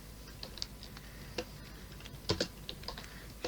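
Quiet, close keystrokes on a computer keyboard tap out a short entry in an irregular rhythm, a handful of soft clicks with a couple of sharper presses, and no voices.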